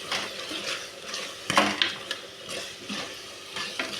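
Masala is stirred into a frying tomato rice base, with a few sharp scrapes and clinks of a spoon in the pan over a faint sizzle, close and moderately loud.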